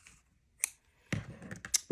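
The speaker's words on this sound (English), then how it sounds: "Scissors." Scissors cutting thread while decorating a handmade journal, a few close, sharp snips and clicks separated by quiet pauses in an otherwise still room.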